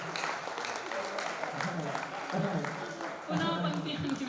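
Audience applause at a Hindi poetry reading, faint and somewhat distant clapping with a voice speaking over it at intervals.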